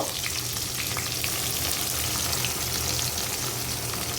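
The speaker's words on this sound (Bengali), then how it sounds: "আর এখন গরম মশলার মধ্যে হচ্ছে আমি অনেকগুলা পেঁয়াজ দিয়ে নেব" Onions frying in hot oil with garam masala for a spicy jhal fry, a steady close sizzle and crackle running unbroken throughout with light stirring.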